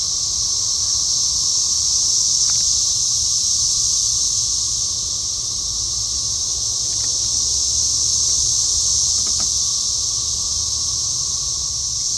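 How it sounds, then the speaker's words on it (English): Cicadas in a tree give a loud, steady high-pitched buzzing drone that holds constant throughout, with a few faint clicks beneath it. "And that sound of cicadas. There's gotta be a bunch of them here"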